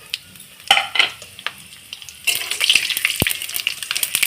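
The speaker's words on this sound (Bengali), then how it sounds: "দিয়ে একটুখানি আমি ফোড়নটাকে একটু ভালোভাবে ভেজে নেব" Whole spices — bay leaf, cinnamon, cloves, dried chilli — fry in hot oil, starting with a few stirring clatters before a steady, close crackling sizzle rises and continues, with a sharp clink of utensil partway through.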